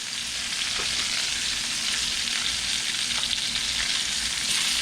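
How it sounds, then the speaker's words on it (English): Bacon frying on a Los Angeles street-vendor griddle for bacon-wrapped hot dogs, a loud, steady hiss and crackle with scattered pops, continuous and close, with no voices. "Smell that bacon frying?"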